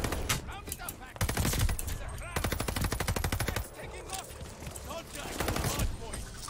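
Rapid automatic gunfire from a Cooper Carbine in a video game, loud bursts of repeated shots in several sustained volleys with brief gaps between them.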